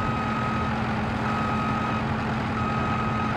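In Farming Simulator 22, a farm vehicle backing up to a trailer at a grape farm sounds a steady electronic reversing beep that repeats evenly over a low engine rumble, with no talk.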